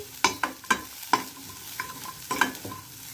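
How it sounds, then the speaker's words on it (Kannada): Cumin seeds, cinnamon and chilies frying in a pan, sharp metallic stirring clinks and scrapes at an uneven pace over a faint sizzle, close by and without speech. "ಜೀರಿಗೆ, ನಂತರ ಚಕ್ಕೆ, ಮೆಣಸಿನ್ಕಾಯಿಯನ್ನು ನಾವು ಹಾಕ್ಕೊಂಡಿದ್ದೀವಿ, ಫ್ರೈ ಮಾಡ್ತಾಯಿದ್ದೀವಿ."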